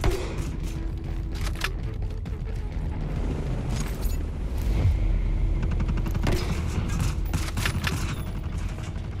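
Dense gunfire and missile explosions in Ghost Recon Breakpoint, with rapid bursts, heavy booms and sharp cracks layered continuously over a rumbling low end, loud and close throughout.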